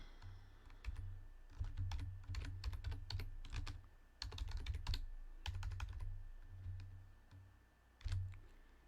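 Steady typing on a computer keyboard while notes are written, quick bursts of close, light key clicks with short pauses between runs, no voice over it.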